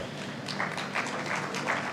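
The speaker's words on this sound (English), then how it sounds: "A huge round of applause." A conference audience applauds, fairly faint and a little distant, with scattered claps building into a steady patter across the short stretch.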